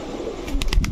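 A large male Pakistani pigeon cooing close by, a short soft throaty coo ending in a few quick pulsed notes, heard alone.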